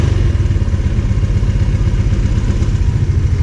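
A 125 motorcycle engine idles close by with a steady, loud, rapid chugging pulse and mechanical clatter, running alone without speech.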